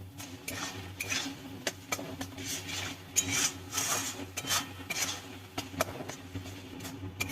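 Salt and turmeric are stirred into ginger and garlic in a cooking pan for a Bengali fish tel jhal, with a soft, continuous scraping of the spoon broken by light taps, close and faint over a low hum.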